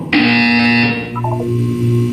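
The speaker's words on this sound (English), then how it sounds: "When you hear the buzzer, look down at the floor" A Portal 2 video-game buzzer sounds with one loud, steady electronic tone lasting about a second, then falls into a few short lower beeps over a sustained hum.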